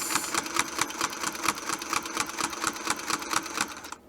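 A sewing machine stitches rapidly in a steady mechanical rhythm while guided along a Westalee Spin e fex 2 ruler, close and continuous, stopping abruptly at the end.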